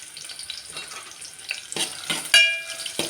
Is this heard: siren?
no